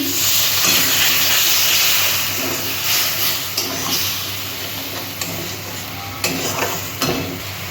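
Water poured onto frying ground coriander, cumin and tomato puree in a pan for banana flower curry raises a loud, continuous hiss and sizzle, with occasional stirring scrapes and clinks.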